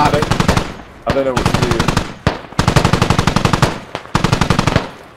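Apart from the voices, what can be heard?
gunfire in the video game Squad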